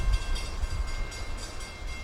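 A CSX freight train hauling bulk rock on a Florida main line rolls past close by, with a low steady rumble of wheels and cars and periodic clunks from the passing wagons, heard alone without voices.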